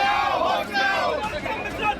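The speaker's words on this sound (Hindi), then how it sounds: "नारेबाजी करती ये भीड़ जो नरोत्तम मिश्रा के टिकट कटने से नाराज है" A crowd of Narottam Mishra's supporters chants slogans in the street in angry protest, a dense, loud mass of shouting voices close by.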